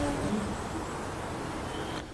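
Solitary bees around bee hotels built by a college biological science club, giving a steady soft buzzing hum with faint outdoor noise behind it and no clear voices.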